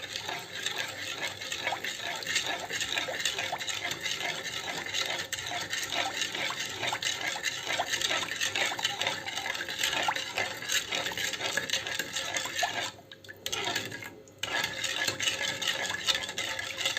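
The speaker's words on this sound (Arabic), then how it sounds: "هقلبه على البارد. هحط السكر بس يدوب الاول." A spoon stirs sugar steadily into cold water in a container, with a continuous liquid swishing and faint clinks, briefly pausing once near the end.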